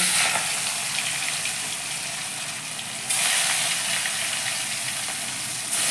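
Katla fish pieces rubbed with salt and turmeric fry in hot oil, producing a loud steady hiss that jumps louder halfway through as more sizzling starts; no talking.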